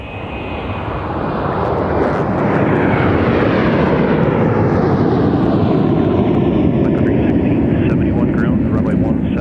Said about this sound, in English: Here's our departure off to Seattle, Washington, Delta 868,